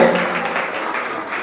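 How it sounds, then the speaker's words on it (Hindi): Audience applause at a Jain festival celebrating Lord Adinath's birth with a chariot procession in Agra: dense, continuous crowd clapping that holds steady at a fairly loud level with no breaks. "एक बार जोरदार तालियां बजाइए"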